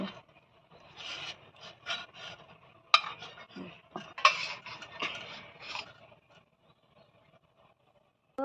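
An eggless cake is worked loose from its bowl with a utensil, giving a series of close scraping, rubbing strokes and a few sharp taps, then quieting toward the end.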